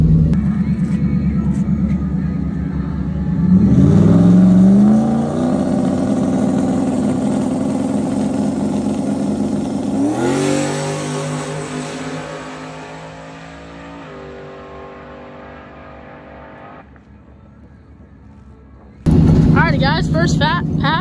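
Drag race car making a pass at a summer testing event, a loud roaring engine that revs and climbs in pitch, pulls away and fades, then a voice speaks close up at the end.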